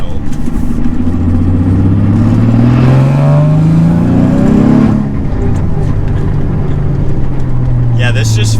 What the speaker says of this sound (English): the turbos kick in and it just starts going